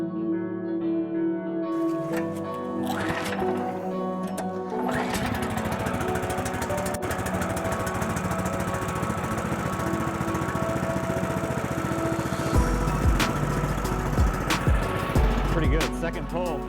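A Woodland Mills HM126 sawmill's small gas engine catches and starts, then settles into a loud, steady running drone with a rough mechanical rattle, close by.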